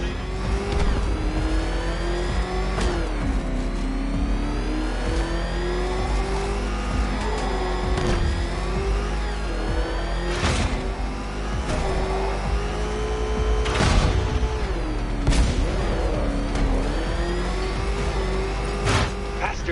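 Engine of the Batmobile-style car in Batman Arkham Knight revving and droning continuously at high pitch, rising and falling with gear shifts, steady and loud throughout with game sound layered over it.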